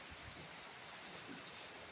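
Rain falls in a faint, steady patter during heavy rainfall, an even hiss with no speech.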